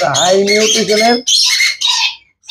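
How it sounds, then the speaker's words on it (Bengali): A crimson-bellied conure, a high-mutation bird at a market, gives several loud, harsh squawks in quick succession, close and raucous, with brief gaps between calls. "crimson red bellied conure high মিউটেশনেরটা"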